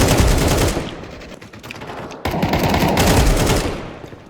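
Rapid bursts of Counter-Strike 2 gunfire crackle continuously, loud and dense, like sustained automatic shooting with a brief dip midway.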